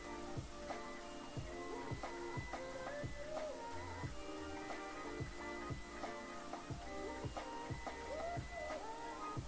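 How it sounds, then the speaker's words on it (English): A Tiny-M 3D printer with a magnetic bed, running at the very limit of its speed, makes stepper motors whine with tones that rise and fall, over regular rapid clicks and thumps that repeat steadily. "that's about the limits of what this printer can do, and I wouldn't actually print that fast"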